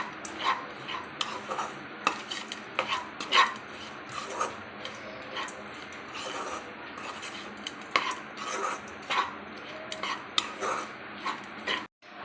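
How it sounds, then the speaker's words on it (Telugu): Spice powder frying in a pan for masala chole, with steady clinks and scrapes of a spoon stirring against the pan over a soft background sizzle, continuing for several seconds. "ఇది వేసేసుకొని ఒక 1 మినిట్ ఫ్రై చేసుకోవాలండి బాగా."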